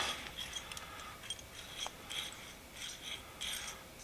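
Quiet mechanical rasping and ratcheting as a small vintage Palmgren angle-tilting drill press vise is worked, with soft grinding clicks recurring over a few seconds; no talking.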